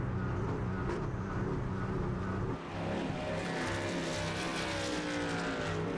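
A race truck in a Truck Series stock race rumbles down pit road, its engine droning loudly and steadily, with a brief dip before the note shifts as it moves along.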